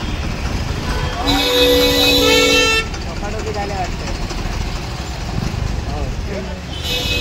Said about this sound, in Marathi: कशामुळे एवढं ट्रॅफिक आहे माहीत नाही, पण बरंच ट्रॅफिक आहे